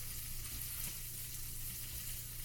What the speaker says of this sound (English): Put this one breaded up here and into our skillet.